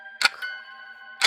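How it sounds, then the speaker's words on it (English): A clock ticks twice, two sharp metallic clicks about a second apart, each followed by a faint ringing hum in an otherwise quiet space. "Tick, tock, tick, tock."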